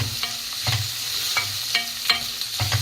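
Onions and green chillies fry in hot oil for a hotel-style tiffin sambar, a steady close sizzle broken by several sharp spoon scrapes and clatters against the pan at irregular intervals, with no talking.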